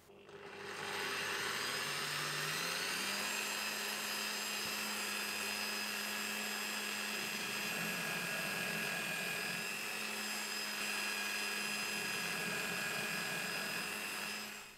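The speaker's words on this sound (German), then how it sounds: "Da setze ich eine kleine Bohrung, 4 mm, habe ich mir jetzt mal vorgenommen." A small 4 mm drill bores a start hole in a workpiece in a home workshop. The motor spins up over a couple of seconds, holds a steady high whine for about twelve seconds, then winds down.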